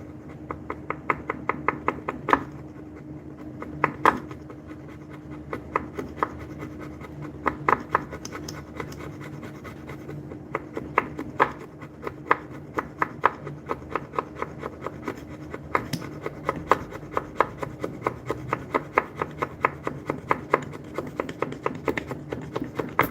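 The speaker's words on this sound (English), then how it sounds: "I'm very proud of the work this little chisel be doing." A small hand chisel carving wood gives repeated sharp taps and scraping cuts in a steady, uneven rhythm, close up and fairly loud, running continuously with no talking.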